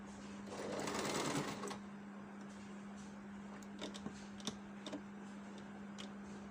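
A sewing machine stitches pieces of a Papua New Guinea meri blouse together in a short, whirring run of about a second. Quiet clicks and ticks of the machine follow against a faint steady hum.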